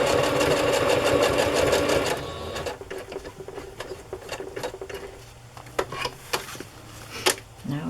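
A sewing machine runs steadily for about two seconds stitching down the long edge of a placemat with a short stitch, then falls to quieter clicks and handling sounds.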